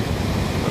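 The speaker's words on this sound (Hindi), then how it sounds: "और किस वेग से नदी निकल रही है" The Saraswati river rushes out from its source beside Bhim Pul near Mana, a loud, close, continuous roar of turbulent water with a windy hiss and no voices.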